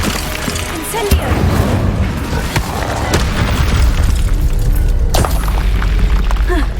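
An Incendio fire spell blasts loudly in Hogwarts Legacy, a booming rumble with sharp cracks at about one and five seconds over dense, continuous game noise. A voice calls out briefly.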